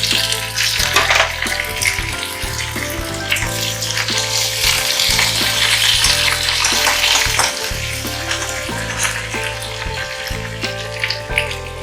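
Curry leaves and green chillies sizzle loudly in hot oil on a low gas flame, giving a dense, crackling fry that runs continuously, with a low background hum underneath.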